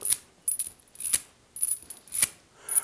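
A metal choke-chain dog collar slides through its ring in five quick, close zipping rattles, separated by short pauses.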